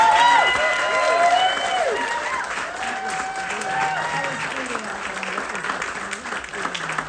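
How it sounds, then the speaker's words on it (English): A crowd applauds steadily for Victoria Hentrich's 90th birthday celebration, with clapping strongest at the start and slowly fading, while music and voices run beneath it. "So if you'll join me in a round of applause in wishing Victoria a very happy"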